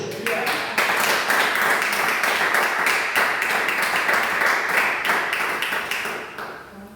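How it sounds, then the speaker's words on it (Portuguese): A church congregation applauds in a sustained burst of clapping that fills the room, then fades toward the end. "Você pode aplaudir a Jesus?"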